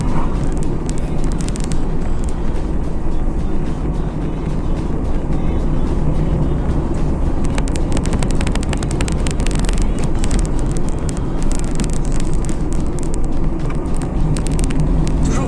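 A small car's engine is heard from inside while driving through bends with a little throttle held, giving a steady droning hum with road noise and wind buffeting on the microphone, loud and continuous.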